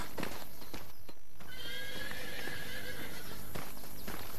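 A horse on a ranch gives a drawn-out whinny while hooves clip-clop, all under a constant wash of outdoor background noise with no talking.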